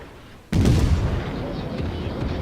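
Naval gun salvo in the World of Warships game: a loud, sudden boom at half a second, then a rumbling roar that slowly fades across the rest of the moment.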